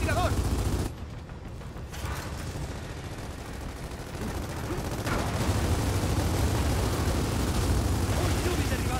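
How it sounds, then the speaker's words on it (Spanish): Sniper rifle fire rings out in the Gears of War 4 video game amid a dense, loud battle din of shots and blasts. Game voices can be heard under the steady roar. "¡Francotiradores! ¡A cubierto!"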